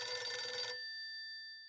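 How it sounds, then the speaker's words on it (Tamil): A telephone bell rings once at home in a short burst, then a clear tone trails off into silence, faint and without speech. "அப்போது ஒரு ஃபோன் வருது."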